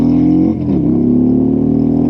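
A Harley-Davidson Road Glide Limited motorcycle accelerating, its engine a loud, close, continuous low rumble that dips briefly as it shifts, then pulls on steadily.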